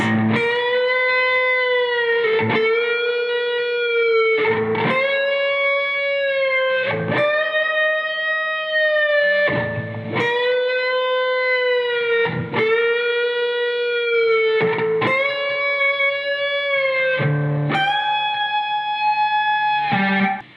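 Electric guitar plays the interlude, parts one through four together at slow tempo: a sustained, harmonically rich distorted tone with effects, steady repeated phrases changing roughly every two and a half seconds, loud and alone.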